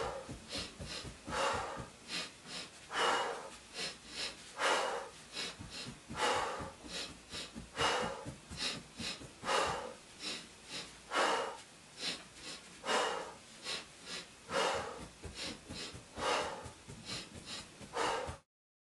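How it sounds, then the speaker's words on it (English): A patient doing a breathing exercise of two breaths in and one out, giving repeated rhythmic sniffing inhales and puffing exhales, close and fairly quiet, steady throughout with no talking. "continue practice 2 breaths in, 1 breath out"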